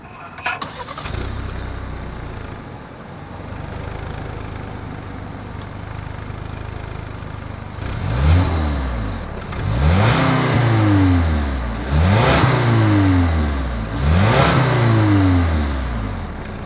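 A 2020 Lincoln Nautilus with dual chrome-tipped exhaust outlets starts and settles into a low idle, then gets four sharp revs that rise and fall in a steady rhythm, loud and close behind the car, with no talking.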